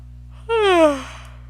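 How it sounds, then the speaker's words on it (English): A single drawn-out human yawn, a rising then slowly falling voiced breath lasting about half a second, close and clear over a steady low hum. "sorry for yawning."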